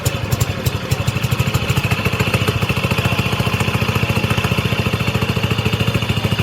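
Petrol plate compactor engine under repair firing up and settling into a loud, steady, rapid chugging run with a clattering mechanical rhythm, close by and alone.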